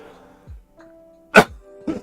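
A sick person gives a couple of sharp, close coughs separated by a brief pause, with a faint hum and a short voiced sound before them.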